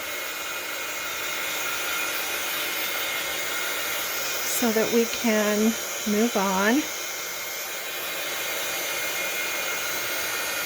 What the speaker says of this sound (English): sorry for the noise, but I'm going to give this a shot of heat